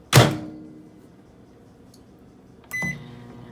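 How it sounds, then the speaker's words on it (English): A sharp thunk like a microwave door shutting, then a faint low hum as it runs warming mason jars, followed by another thunk with a short electronic beep. "I'm just gonna sit the mason jars into the microwave."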